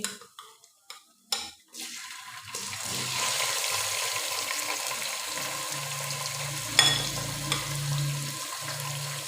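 A few clunks and scrapes, then a loud, steady hiss and sizzle of frozen chicken hitting hot oil, with a low rumble underneath and occasional stirring.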